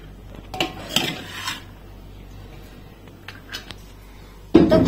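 Cooked rice tipped into a metal basin for fried rice, giving a few soft clanks and scrapes against the metal, then a louder clatter at the very end.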